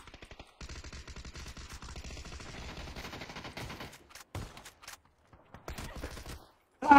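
Automatic gunfire in a video game, a rapid rattling burst of shots that runs for about three seconds, then several short choppy bursts and a final loud volley, with a voice briefly heard.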